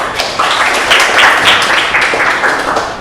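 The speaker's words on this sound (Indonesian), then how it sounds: "tepuk tangan buat Sabila" A classroom of students applauding a pupil named Sabila after her answer in a primary science lesson: loud, close rhythmic clapping from many children, fairly even, lasting a few seconds without speech.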